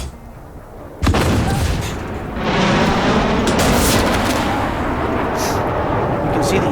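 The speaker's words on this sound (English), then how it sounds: "Oh, I just got nuked by a bomb." A bomb explodes in the tank game Armored Warfare with a sudden loud blast, followed by a long, dense roar of rumbling explosions and gunfire that persists to the end.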